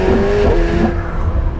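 A McLaren 750S accelerates hard along a small road, its engine note climbing loud and close with a rising rev tone that shifts after a moment and continues as a strong roar.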